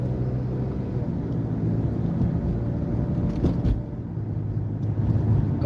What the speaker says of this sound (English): I look left and right, and I accelerate.